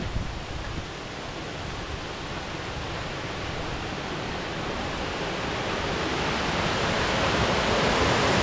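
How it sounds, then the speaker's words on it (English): Steady, dense roar of a mountain torrent on New Zealand's West Coast near a mine site, loud and close, building slightly over time with no voices. "Got a raging torrent or something up here"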